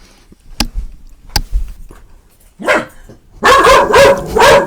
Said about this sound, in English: If I move the chair, the dog will bark